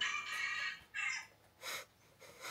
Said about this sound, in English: The chicken is screaming already.